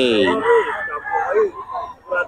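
A Boston Sweater gamefowl rooster gives a loud, close cock-a-doodle-doo crow at a fowl sale. A drawn-out, wavering call rises and falls over about two seconds.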